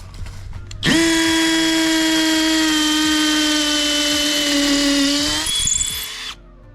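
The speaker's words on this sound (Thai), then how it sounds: "เดี๋ยวผมจะมาเจาะพุกตรงเนี้ยสองตัว เพื่อที่จะ ติดโคมไฟนะครับ" A PUMA PM-245BL 20 V cordless drill bores into a concrete pillar for wall plugs, a single loud, close, steady high whine lasting about five seconds that ends with a brief rougher grind as it stops.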